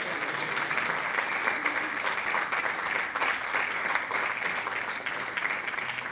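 Sustained applause fills a music hall as an arts awards audience claps for honorees, a thick, even wash of many hands that holds at a constant level from start to finish.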